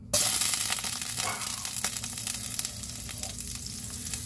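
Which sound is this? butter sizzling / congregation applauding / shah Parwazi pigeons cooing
butter sizzling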